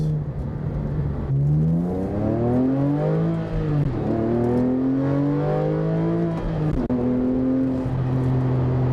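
Porsche 997 engine accelerating hard, a loud rising whine that climbs steadily through the revs, drops briefly at gear changes and climbs again, heard from inside the car.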